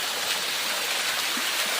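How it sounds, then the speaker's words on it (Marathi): A waterfall and river in full flow after several days of heavy rain, a steady, dense broadband roar of rushing water that continues without a break. "हे बघा पूर्ण नदीला पाणी व्हायला सुरुवात झाली आणि हे बघा हा धबधबा पण"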